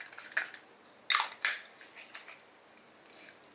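Naked Sundays Hydrating Glow Mist face mist being sprayed in three short, close hissing bursts, two of them in quick succession, in a quiet room with no talk.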